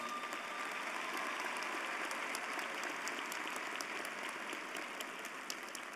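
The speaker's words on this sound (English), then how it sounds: "Let's give them all a round of applause" Audience at a Florida State College at Jacksonville 2024 commencement ceremony applauding steadily in a large hall, a dense, even wash of clapping that holds for the whole stretch with no voices over it.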